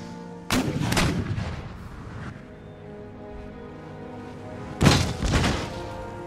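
Cannon and musket volleys boom across a Napoleonic-era battlefield in Empire: Total War, with a heavy blast opening, rumbling decay, then a second loud report near the end.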